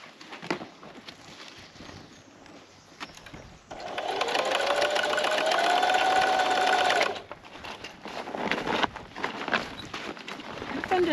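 A sewing machine stitches fabric on an off-grid Alaska homestead, a loud, fast, steady whirring run of several seconds. Quieter handling noises and faint talk come before and after it.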